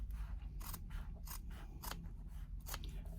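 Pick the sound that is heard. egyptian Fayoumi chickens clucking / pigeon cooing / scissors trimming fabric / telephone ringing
scissors trimming fabric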